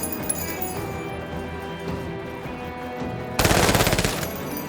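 Chain gun firing in a combat video game, a sustained rapid burst of loud rattling shots near the end, following a stretch of quieter game ambience.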